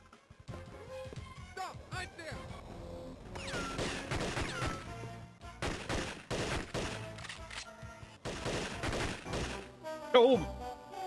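Gunfire in the 2003 Game Boy Advance game 007: Nightfire, with rapid bursts of clattering shots and crashing impacts over busy game music and effects, loud and dense through most of the stretch.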